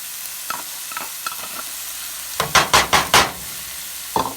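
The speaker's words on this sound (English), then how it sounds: "And then I take my spoon, scrape it, and put it in, mix this in here." A spoon scrapes and stirs a djon-djon black rice mixture in a pot, several quick loud scraping strokes in a burst after softer scattered taps, with no talking.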